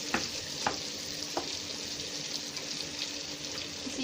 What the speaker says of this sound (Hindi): अब इसको हम तकरीबन जो है 15 मिनट तक भुनाई करेंगे ताकि अच्छे तरीके से ये बिल्कुल मेल्ट हो जाए।